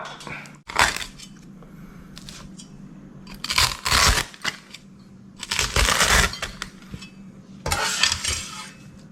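Crispy fried noodles being set onto a plate, bursts of dry crackling and rustling that come in several separate handfuls, close and fairly loud.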